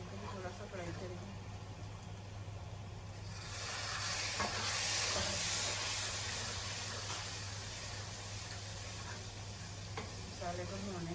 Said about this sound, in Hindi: इनको भी थोड़ा सा फ्राई करेंगे।